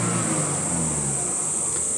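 A 1998 Toyota MR2 G-Limited with a stock intake idles close by with a steady, slightly uneven engine hum as it hunts for idle, the revs sagging and recovering a little.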